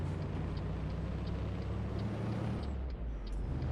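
A heavy truck in American Truck Simulator slows for a turn, its engine holding a steady low drone with a faint hiss on top. The sound runs continuously throughout, with no voices.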